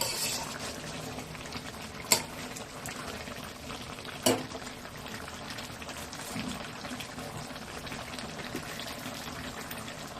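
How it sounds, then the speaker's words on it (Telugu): Fenugreek chicken curry simmers under a lid with a soft, steady bubbling hiss, faint and continuous, and two brief clinks partway through. "మూత పెట్టుకొని ఒక 10 నిమిషాలు ఉడికించుకుందాం"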